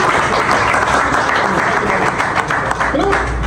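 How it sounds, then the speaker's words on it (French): An audience applauds a man at a clinic staff gathering, with dense, steady clapping close by and a voice speaking over part of it. "Applaudissez le monsieur."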